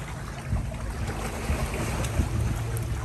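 Water splashing in a swimming pool, a steady broadband wash of sloshing and churning with a few louder splashes, heard close and fairly loud with no voices.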